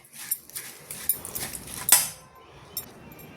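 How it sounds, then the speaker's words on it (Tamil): A pot of flattened rice with coconut, cardamom and salt is stirred by hand, giving scattered light clinks and scrapes of a spoon against the metal pot, with one sharper clink near the middle. "இது நல்லா மிக்ஸ் பண்ணிடுவோம்"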